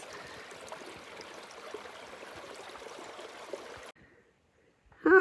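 A stream of water flows into a winter lake, a steady close gurgling rush that cuts out abruptly partway through, followed by near silence and a brief louder sound at the very end.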